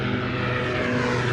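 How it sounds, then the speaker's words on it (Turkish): A motorized propeller airplane passes overhead near the Egyptian pyramids, a steady droning engine hum with a strong, even tone filling the short stretch. "Motorlu uçaklar geçiyor. Bunlar da çok ses yapıyor."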